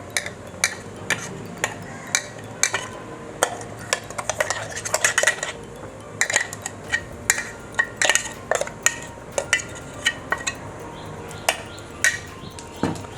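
Ground spice paste for a ripe mango curry is added and mixed in a pot, sharp metal spoon clinks and taps against the vessel in an irregular series, close and fairly quiet.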